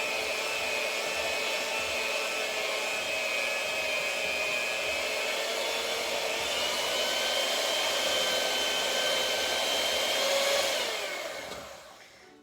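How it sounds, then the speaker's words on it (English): A small handheld electric mixer runs with its whisk attachment, a continuous close motor whir that holds steady for several seconds before winding down at the end. "I'm going to use the whisk component on my electric mixer, my little handheld."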